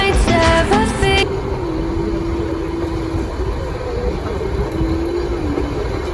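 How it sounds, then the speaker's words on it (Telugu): Ooty to Coonoor toy train on the move: a bright tonal burst at the start, then a steady, fairly loud rolling rumble of the running train that continues throughout, with no talk. "మీకు నచ్చింది అనుకుంటున్నాను టాయ్ ట్రైన్ రైడ్"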